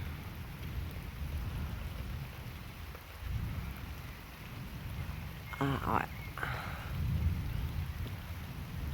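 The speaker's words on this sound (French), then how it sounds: "j'entends l'orage qui" A thunderstorm with steady rain hissing on surfaces and low rumbles of thunder rolling in the background; a person briefly speaks over it.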